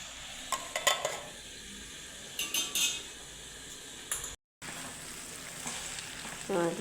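Brinjal for sukhi bhaji frying in oil in a pan, a low continuous sizzle with intermittent clinks and scrapes of a utensil against the pan, close and fairly quiet, briefly cutting out partway.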